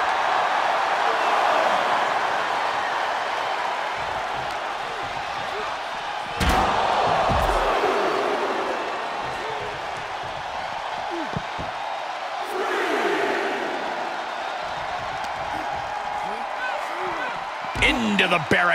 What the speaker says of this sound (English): he slammed his face right into the barricade